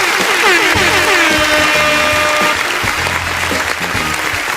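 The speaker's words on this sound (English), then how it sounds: "Studio audience, give them a round of applause." Studio audience applause during a live trivia show, a dense, steady burst of clapping that stays loud for the whole few seconds with faint horn-like tones mixed in.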